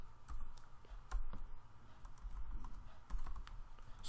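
Typing on a computer keyboard while writing an email, with quick irregular bursts of soft key clicks, close and quiet, alone without talking.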